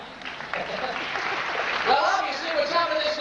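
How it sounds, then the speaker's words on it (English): Applause on a film set after a take wraps, a broad, steady patter of clapping mixed with overlapping voices throughout. "Give her a round of applause."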